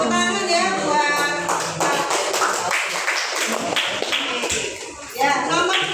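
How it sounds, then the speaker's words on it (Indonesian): Audience clapping at a teachers' innovation jamboree, a burst of many hands clapping under a voice speaking over it, dense and fairly close, fading toward the end. "Tepuk tangan ya buat."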